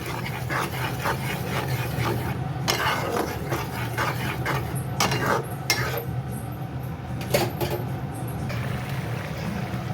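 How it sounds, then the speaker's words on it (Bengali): Masala of ground turmeric, chilli, cumin and coriander being sautéed for a tangra fish curry, with metal clinks and scrapes of a spatula against the pan over a steady background hiss, close and moderately loud. "তো এগুলো পুরো ব্যাপারটা এবার কষাবো"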